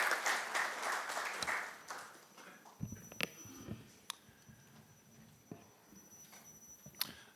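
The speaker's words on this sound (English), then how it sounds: "Friends, a warm round of applause for Matsumoto-san as he addresses us." Applause from the audience at the inaugural session of a Japan-India cooperation conference, a broad wash of clapping for about two seconds that fades out into sparse scattered claps, small ticks and room noise.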